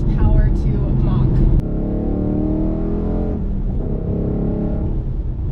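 Heard from inside the car, a supercharged Ford Mustang Mach 1 pulls with a loud, close engine drone that rises in pitch. A brief break partway through, then it keeps pulling.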